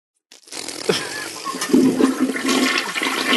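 A toilet flush sound effect plays alone, opening with a click and then a loud, gurgling rush of water that swirls and roars steadily to the end.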